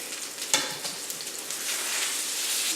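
A rib eye steak sears in a hot pan, giving a steady crackling sizzle with a few sharper pops early on, close and alone without voices.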